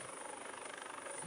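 A rescue helicopter on a search-and-rescue operation for a ferry near Banting gives a steady, faint rotor drone that holds through the whole moment with no voices.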